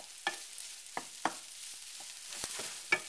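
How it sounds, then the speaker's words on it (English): A spoon scrapes and knocks in a bowl as pecans are stirred into squash stuffing, a few soft, separate strokes close by over a quiet background. "now what I'm going to do is just put the pecans in and stir them up"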